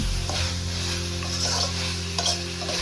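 Chicken gravy fry with freshly added chopped green chillies is stirred in a hot pan, a spoon scraping and tossing through a continuous gentle sizzle, close by with no talk.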